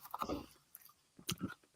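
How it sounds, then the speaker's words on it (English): Tostitos tortilla chips being bitten and chewed close up, a few crunchy bursts early on and another cluster after a short pause, with no talking. "Crunching and smacking."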